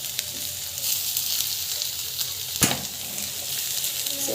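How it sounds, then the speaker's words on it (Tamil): Turmeric powder sautéing in a pan, giving a continuous hissing sizzle up close with one sharp utensil tap midway. "மஞ்சள் பொடி நல்லா வந்து வதக்கி விட்டுருக்கேன்"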